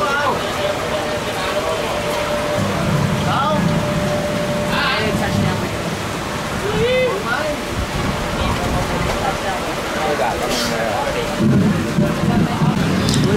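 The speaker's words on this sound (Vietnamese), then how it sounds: "hiện tại sét đánh cũng rất là mạnh ở sân bay Tân Sơn Nhất" Steady heavy rain with a thunderstorm at Tan Son Nhat airport, a continuous wash of rainfall with low rumbling swells, someone talking over it throughout.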